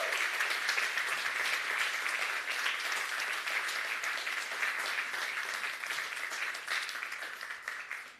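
Audience applause fills the hall at an open Hungarian sommelier championship, a dense, steady wash of many hands clapping at moderate distance that carries on for the whole stretch without pause or voices.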